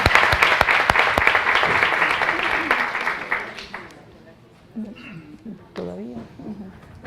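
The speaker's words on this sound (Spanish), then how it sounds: "un aplauso." An audience in an educational talk on peace gives a young woman a hearty round of clapping that fades out after a few seconds, followed by someone beginning to speak.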